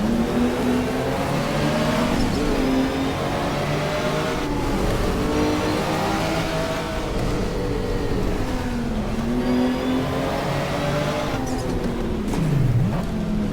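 Race car engines of BMW and Mercedes touring cars roar and rise and fall in pitch through gear changes in a 1987 WTCC race at Wellington in the GTR2 game, loud and continuous throughout.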